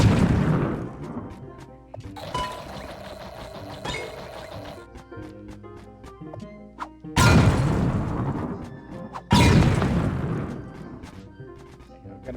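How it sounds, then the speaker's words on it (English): A bomb in the voxel game Trove detonates in several sharp, loud bursts, each blast decaying into rumble, with lighter clinks and pops between them. "I'm just gonna use a bomb."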